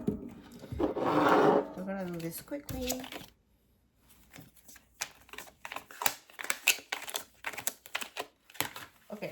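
Tarot cards are shuffled by hand in a run of quick, crisp riffling taps that follows a short stretch of speech and a brief pause, close and fairly faint.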